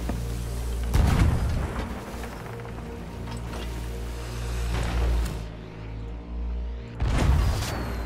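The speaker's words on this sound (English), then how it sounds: "He wanted to shoot a firework." Several deep booming firework blasts in the video game Sea of Thieves ring out across a steady low rumble, with loud bursts near the start and the end and softer thumps between them.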